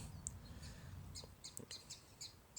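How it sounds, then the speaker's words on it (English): Small birds sing and chirp outdoors on a fresh morning, scattered short tweets repeating across the clip at moderate distance over a low steady background murmur. "We got birds,"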